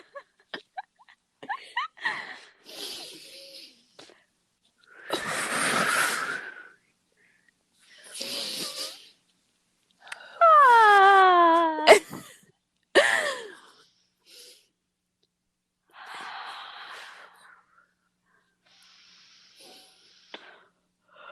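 Deep breaths drawn in and pushed out with grunts during a guided breathing exercise, in separate bursts with silent gaps, a long strained exhale near the middle, and a few short voiced sounds between them.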